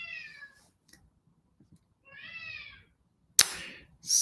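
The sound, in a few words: cat meowing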